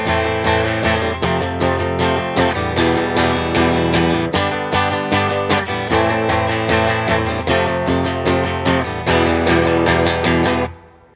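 Strummed guitar chords of a song ring out loud and steady, with rhythmic repeated strums and barred high strings, continuing for about ten seconds before stopping.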